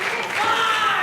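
Wrestling crowd at an indoor show cheering and roaring in a dense, continuous wash of noise, loud and close throughout the short burst.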